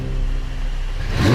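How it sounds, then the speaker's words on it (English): A crash-damaged McLaren 720S being rebuilt cranks and fires up for the first time, a low steady whir swelling into a loud rising engine roar at the very end, close by with no talk. "so we can start the car"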